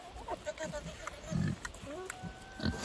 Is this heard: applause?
no